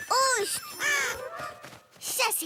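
A big cartoon bird gives several loud, wavering caws, harsh and nasal, one after another with short gaps, close and clear against a quiet background.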